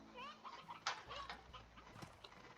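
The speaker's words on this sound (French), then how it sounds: "Je vais prendre un coq, comme ça ils peuvent toujours se reproduire." Chickens and a rooster in the video game Slime Rancher, clucking and squawking close by in irregular overlapping bursts with occasional wing flutters, at a low level.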